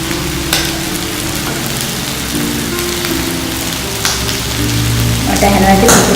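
Cuttlefish frying in hot oil on a stove with the flame turned up, a steady dense crackle and sizzle with sharper pops, close and continuous throughout.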